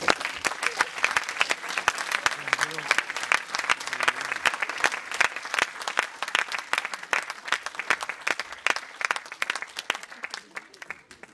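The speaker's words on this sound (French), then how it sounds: "Je vous demande de bien vouloir l'applaudir pour son travail et l'investissement à sa passion." An audience at an orchestra award ceremony applauds warmly for Laura receiving the Nicolas Award, a dense, steady roomful of clapping that carries on throughout and thins slightly toward the end.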